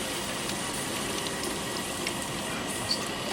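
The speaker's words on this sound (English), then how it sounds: "So just put it under the pipe and run some water on it and it will cool itself down." Tap water gushes steadily over a hot pressure cooker used to cook Jamaican brown stew turkey neck, a continuous close rushing spray with no pauses and no speech.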